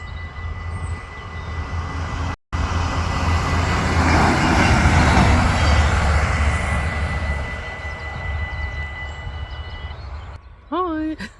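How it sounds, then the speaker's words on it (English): A train arriving at a station in the Twente region on a hot day: a loud, rising rumble of the approaching train that swells and fades over several seconds, ending with a short squeal of brakes, with no talk over it. "Oh, there's the train already."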